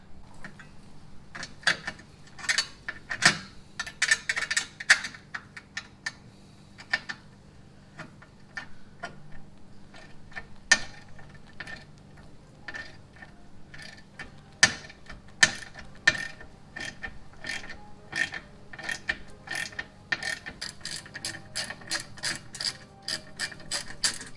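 A ratchet turns a 10mm socket to set a rivet nut while a ZSpeed undershroud is fitted to a Nissan 370Z. Sharp, close clicking comes in quick repeated runs with short pauses in a quiet space.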